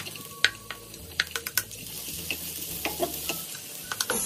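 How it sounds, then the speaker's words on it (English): Onions and vegetables stir-fried in a pan for a spinach omelet, a steady sizzle with repeated scraping and clacking stir strokes, close and alone. "We're just going to stir fry the veggies."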